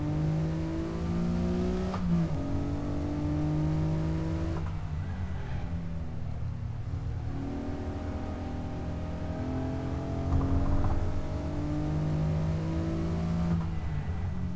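Stock Acura NSX engine lapping Laguna Seca in Assetto Corsa, a steady close-up drone of revs climbing and dropping through gear changes, with wind noise throughout and no talking.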